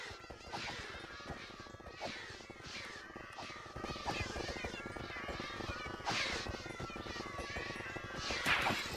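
Many cats meow over and over in a video game, a dense overlapping chorus of mews on top of a steady rumbling background din, with no clear speech.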